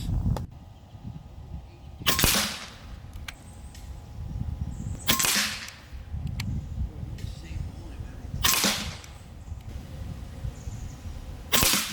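A Benjamin Marauder Gen 3 air rifle fires JSB 18 pellets: four sharp, loud cracks spaced a few seconds apart, each followed by a short ring, with quiet outdoor background between shots.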